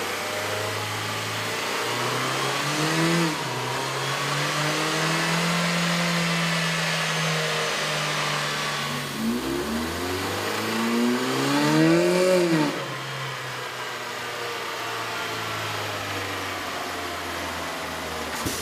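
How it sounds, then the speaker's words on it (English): A 2011 Ford Fiesta 1.6L engine fitted with a K&N cold air intake runs on a dyno, droning steadily and climbing in pitch through two rising revs before settling back, loud and close with no talk. "With the air intake installed, we ran the vehicle on the dyno to test the sound comparison versus the stock intake."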